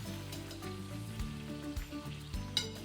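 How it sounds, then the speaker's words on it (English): Boiled dumplings frying slowly in butter in a pan over medium heat, giving a steady, soft sizzle with faint crackles throughout, low and continuous with no voices. "I just slowly fry them on a medium heat until they're crispy on the outside and chewy on the inside"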